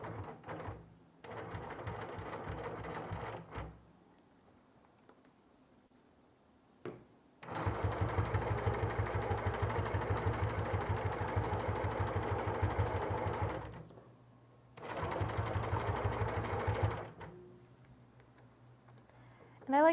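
A sewing machine stitches quilting fabric in two long, loud bursts of rapid even rhythm, with short pauses and quieter handling sounds between runs; a person speaks softly at times.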